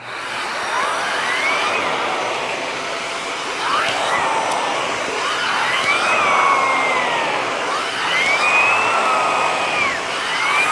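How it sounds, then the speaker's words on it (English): A Eureka Floor Rover Pet vacuum cleaner runs steadily with a loud whirring drone, its pitch rising and falling in sweeps as the nozzle moves, no talking. "just simply turn the vacuum on"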